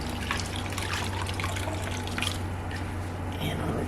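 Water trickles and drips while a home is deep-cleaned after a roach infestation, a steady wet wash running under a constant low hum throughout.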